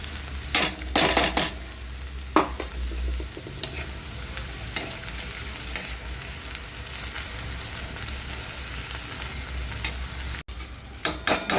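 Cooked moth beans (matki) go into a pan of roasted tomatoes, with bursts of sizzling, scraping and stirring against the pan alongside a steady frying hiss, ending in a few sharp clatters.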